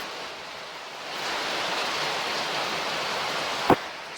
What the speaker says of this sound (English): So there's a lot of rain going on,